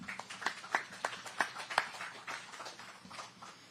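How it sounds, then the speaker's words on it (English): A small group claps for three Supercross podium riders at a post-race press conference in Philadelphia. It comes as a faint, sparse patter of a handful of distinct claps that quickly thins out. "Big round of applause out here for these three."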